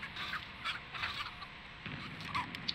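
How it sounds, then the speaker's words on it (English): A chicken in The Texas Chain Saw Massacre game gives several short clucking calls spaced irregularly over a low ambient background, fairly close with no talking. "So that's a chicken."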